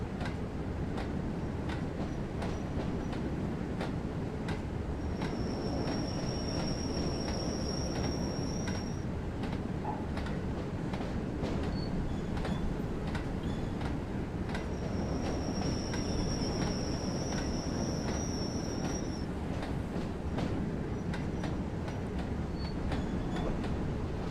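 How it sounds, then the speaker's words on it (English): A BR Class 08 shunter in Train Sim World rolls slowly with a steady rumbling drone, while two drawn-out high brake squeals rise above it as the train brake is applied again and again. "So you'll just see me pumping the train brake over and over again."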